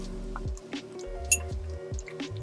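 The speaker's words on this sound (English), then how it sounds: "Just mix in your sourdough and the water." Sourdough starter being stirred into water in a bowl for pizza dough, giving soft wet squishes and drips with occasional light clinks of the utensil against the bowl, close and quiet with no talking.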